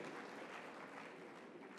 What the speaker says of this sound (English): clap for him, a great surgeon